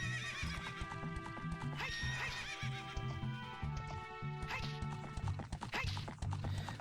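A horse in Ocarina of Time neighs and whinnies in a game field, with repeated hoof clip-clops and soft background game music, fairly quiet.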